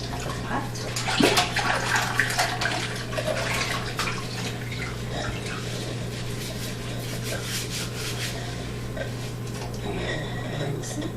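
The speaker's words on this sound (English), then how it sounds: "now we will wash" Water runs from a tap to rinse an orchid pot, a steady close splashing and trickling with a few rubbing touches near the start, under a constant low hum.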